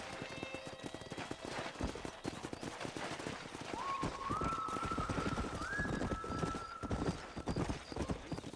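Horses in the video game Red Dead Redemption trot with steady clip-clop hoofbeats, and a horse neighs loudly twice in rising whinnies midway, all close and clear.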